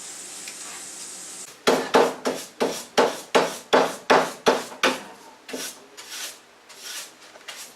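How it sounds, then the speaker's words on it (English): Rhythmic sanding strokes on a first coat of varnish on wood, about a dozen raspy back-and-forth rubs in steady succession, close and fairly loud, tapering off at the end. "This is sanding the first coat of varnish on these"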